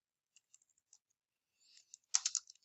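Faint, close keypresses on a TI-84 graphing calculator: a few sparse light taps, then a quick burst of several firmer clicks.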